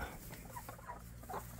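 Backyard homestead hens and roosters give soft clucks and short calls near a hen pen, faint and scattered over low rustling background noise.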